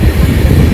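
Train rolling on rails during a journey from Hyderabad to Mahabubabad, heard from inside a carriage: a steady, loud low rumble of wheels and wagon with faint clatter, no talk.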